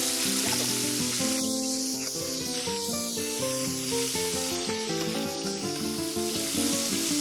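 Marinated chicken pieces for homemade KFC-style fried chicken frying in hot oil over a medium flame, a continuous close sizzle and crackle running beneath steady background music.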